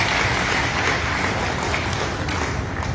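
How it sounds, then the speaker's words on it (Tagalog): Applause from an audience at a public event for a Philippine National Railways project in Calamba City, a steady dense clatter of many hands clapping throughout, fairly loud and continuous with no talk over it. "Pumalakpak ng magagaling."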